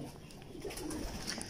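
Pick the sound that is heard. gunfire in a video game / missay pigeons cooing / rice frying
missay pigeons cooing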